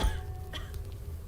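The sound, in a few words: woman coughing in a video game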